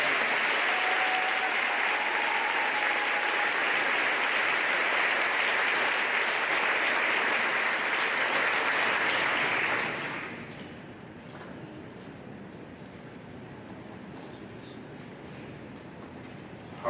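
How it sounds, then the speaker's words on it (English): An audience at an eighth grade celebration applauds for students, a loud, dense, steady wash of clapping for about ten seconds, then fading to quiet room noise. "how about one more round of applause for all of our students?"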